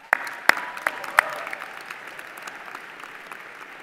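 Applause at an undergraduate commencement ceremony, with a few sharp, close single claps standing out at the start over a softer, steady crowd patter that gradually fades.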